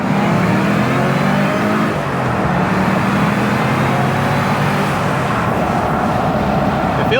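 A 2003 Ford Mustang Cobra's 32-valve modular engine pulls hard in first gear, a loud, steady, close engine roar with rising harmonics running the whole stretch without pause.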